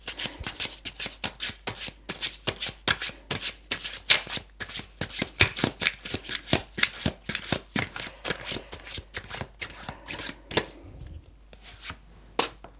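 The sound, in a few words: shuffling tarot cards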